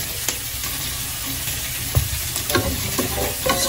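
Butter with a little oil sizzling in a pan for a seafood garlic butter sauce, a steady crackle broken by scraping clicks of stirring close by.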